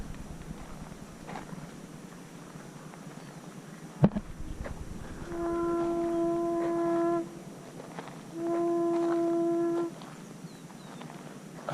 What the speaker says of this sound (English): I hear the conch shell sound.